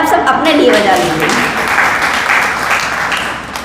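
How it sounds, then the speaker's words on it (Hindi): Audience members at a poetry gathering clap loudly, a full burst of applause that slowly tapers, with a voice speaking near the start. "तो एक बार जोरदार तालियां आप सब अपने लिए बजा लीजिए।"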